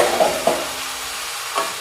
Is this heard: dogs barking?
no